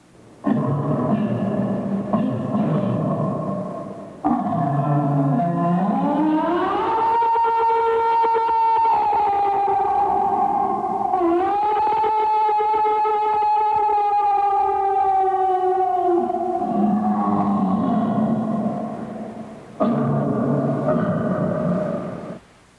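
A long, wavering howl-like cry imitating a reported Bigfoot scream rises and falls over about twenty seconds, loud and sustained with a harsh, anguished tone, no talking.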